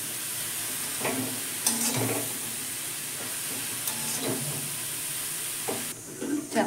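Greens frying in salt in a wok with a soft steady sizzle and hiss, broken by several louder scrapes and stirs from a utensil, fairly quiet and close, with no talk.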